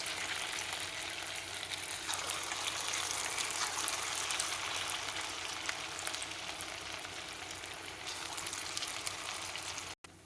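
Small punugulu dumplings of batter dropped into hot oil, giving a continuous even sizzle and bubbling hiss, close and steady for the whole stretch without talk.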